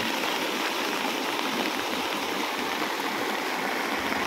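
Steady rushing floodwater overflowing across a road pours continuously, a dense, loud, even roar with no pauses.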